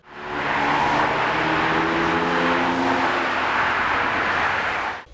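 Road traffic crossing a newly opened bridged junction on the link road between Süleyman Demirel University and the new bus terminal, a loud, steady roar of passing vehicles lasting several seconds.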